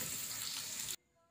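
Chopped onions browning in a cup of hot oil for a rohu fish curry give a loud, steady sizzle that cuts off abruptly near the end, leaving near silence.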